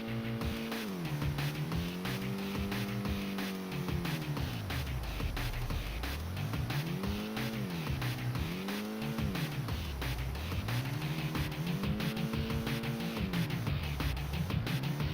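Excitebike on the Game Boy Advance: a continuous buzzing electronic motorbike engine whose pitch swoops up and down in repeated waves as the bike accelerates, jumps and lands, loud and steady throughout.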